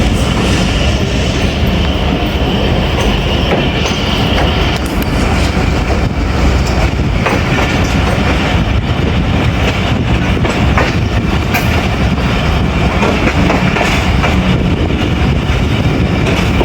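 The Tezgam Express races from Rawalpindi toward Lahore, loud and close with a constant roar of wheels on rails and rhythmic clickety-clack, carriage rattles throughout and no voices.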